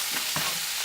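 Food sizzles in a hot pan with butter and margarine, a brief steady frying hiss with a soft stirring scrape partway through, close and alone.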